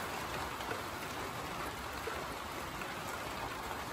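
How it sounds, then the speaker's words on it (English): Steady rain drumming on a tin roof beside a blueberry orchard during maple sugar season, a dense, even hiss with no letup, moderately loud and continuous throughout. "watching the rain on the blueberry orchard, hearing that on the roof"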